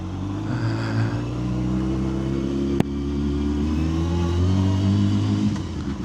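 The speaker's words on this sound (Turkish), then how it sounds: "Güzel gazladı mı? Egzoz da açıldı. Fena bağırıyor." A Honda CBR 600F motorcycle with an open exhaust revs hard and steadily up close, its loud engine roar rising and falling over about six seconds with one sharp click midway.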